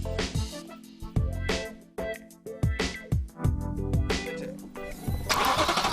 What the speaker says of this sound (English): The high-revving V8 both looks and sounds good.